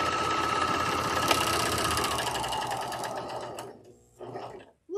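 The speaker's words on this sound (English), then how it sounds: "all I'm doing is test sewing to make sure that my" A serger sewing machine test-stitching a rolled edge on fabric, running in a fast, steady mechanical whirr for about four seconds before slowing and stopping, then a brief short burst of stitching near the end.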